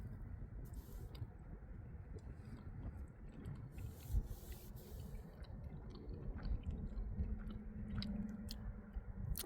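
Soft, sticky chewing of fruit chews candy close to the mouth, a quiet steady run of moist squishing bites with no talking.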